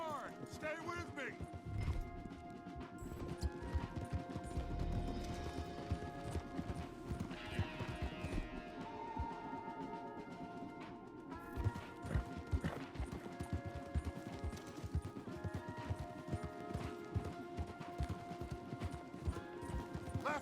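Horses galloping in the video game Red Dead Redemption 2, with quick rhythmic hoofbeats beneath game music and characters talking, fairly quiet overall.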